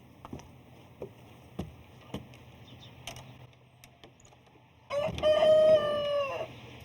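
Chickens at a country Grange fair cluck in a few sharp separate calls, then a rooster crows loudly and close for about two seconds near the end.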